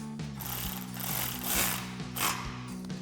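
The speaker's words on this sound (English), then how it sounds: "I'm going to take my electric ratchet here with a 4mm Allen headed socket, start tightening them up." Electric ratchet with a 4mm Allen socket tightening bolts on a DV8 Offroad roof rack for a Jeep Wrangler JL, a steady mechanical whirring and clicking drive with a few stronger surges, close and continuous, no talk.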